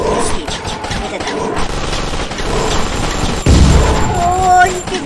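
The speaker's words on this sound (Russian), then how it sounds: "Да, это взрывы были" Explosions in the zombie shooter ZIC: Zombies In City, loud booming blasts over continuous gunfire, with players talking over the action.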